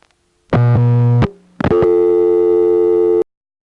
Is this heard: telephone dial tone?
yes